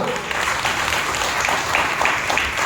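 A church congregation at Sunday Baptist worship claps in a steady, dense roar of applause that holds evenly throughout, with faint voices mixed in.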